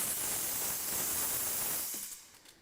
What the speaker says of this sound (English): all we need to do is open the tap and the steam comes out